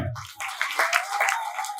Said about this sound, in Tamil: புரிஞ்சவங்க கைதட்டுங்க